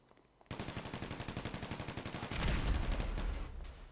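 Rapid automatic gunfire in a video game roleplay training session sounds as a steady, evenly spaced string of close shots, followed by a heavier, louder burst of firing near the end.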